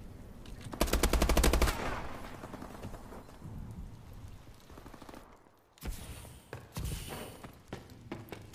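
Incoming gunfire in a video game: a loud rapid burst of automatic fire, then scattered thumps, shots and impacts that come and go in the background.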